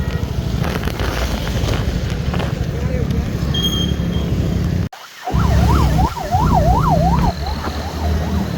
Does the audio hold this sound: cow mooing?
no